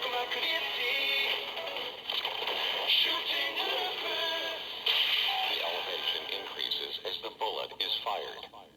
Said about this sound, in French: je peux activer le son de transformation juste en appuyant sur le bouton